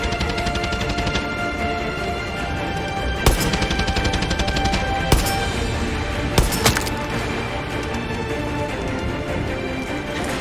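Rifle fire in the shooter game Far Cry 6, with single shots cracking sharply at intervals over a dense, loud background of game music and ambience.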